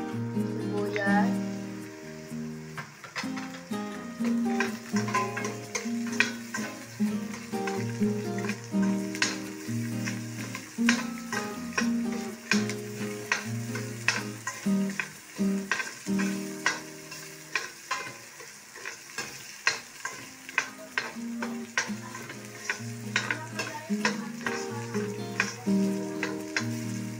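Onions sautéing in a pan for chicken sinigang, a low sizzle with frequent clicking stirs, largely buried under loud background music and occasional talk.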